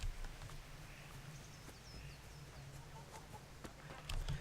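A chicken clucks in the medieval video game Kingdom Come: Deliverance, a few faint, scattered calls over a low steady background hum.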